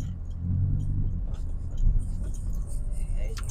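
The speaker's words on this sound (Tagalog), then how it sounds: "Yung jeep natin." A jeep used as a work vehicle rumbles nearby with a low, steady engine drone and some road noise, while a voice talks over it.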